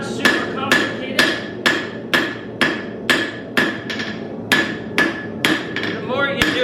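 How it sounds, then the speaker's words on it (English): A smith's hammer strikes hot steel while forging an S-hook for a chicken coop, about a dozen sharp, ringing blows at a steady, brisk rhythm, loud and close with no speech. "The more you do it, the more you'll be able to control your hammer blows."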